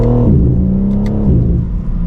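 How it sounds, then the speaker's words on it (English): A BMW M4 Competition engine revs hard, then drops pitch abruptly as its ZF 8-speed shifts on the paddle, with a quick crackle from the exhaust before pulling again, loud and close. "as soon as you hit the paddle, we are shifting. It makes some thunder every shift"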